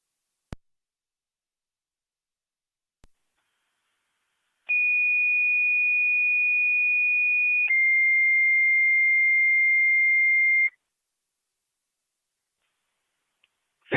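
Two-part fire dispatch radio paging alert from Niagara County fire control: a steady high tone held about three seconds, then a slightly lower tone for three more, clear and loud with near silence and brief clicks around it.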